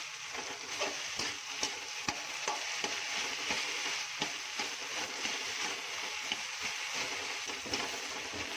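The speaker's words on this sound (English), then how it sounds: "Stir fry till it turns into a smooth paste." Fermented soybean (akhuni) and tomato paste stir-fry in a hot pan, with a steady close sizzle under repeated sharp scrapes and taps of a spatula, and no talking.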